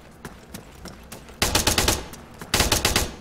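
ARMA 3 gunfire in short automatic bursts, a few scattered single shots followed by two loud rapid volleys of close rifle fire, sharp and punchy.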